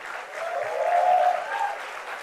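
A crowd at a university convocation applauds steadily for graduating students, the clapping swelling slightly in the middle before easing off, sustained and fairly loud.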